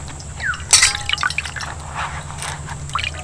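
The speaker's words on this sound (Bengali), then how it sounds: "এবার এটাকে ভালো করে ধুয়ে নেব।" A cauliflower is rinsed under running water. Close drips, splashes and wet squishing sounds come in uneven bursts over a steady background hum.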